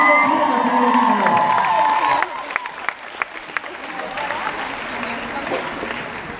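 A crowd at a street dance competition's winners announcement claps and cheers loudly, with a few whoops over steady applause that thins into scattered clapping.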